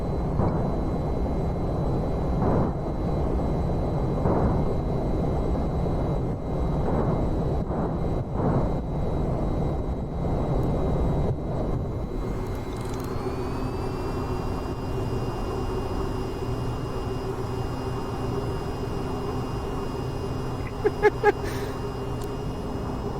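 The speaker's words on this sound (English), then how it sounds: "I'm just flooring it and taking off." Airplane engine roaring during a runway-less, near-vertical takeoff in the VTOL VR flight game, a steady loud drone that shifts upward in pitch midway and holds, with a few brief clicks near the end.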